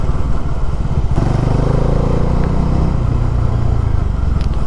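A motorcycle rolls through the Buddhanam toll plaza on a long highway ride, its engine droning loud and close with a steady rumble, shifting pitch slightly partway through as it passes.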